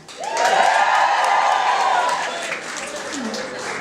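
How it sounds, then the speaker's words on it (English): Comedy club audience at Vicar Street letting out a loud swelling cheer and whoops that rise quickly, hold, then fade, with scattered applause underneath. "So can I have a cheer from all the single people here?"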